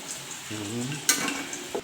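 Oil sizzles steadily in a pan as potatoes fry, punctuated by a sharp metallic clank and a brief murmur of voices in the background.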